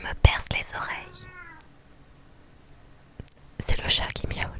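A whispering voice imitates a cat's meow, with a drawn-out, wavering cry between soft breathy whispers. Whispered speech comes before and after it, close and intimate.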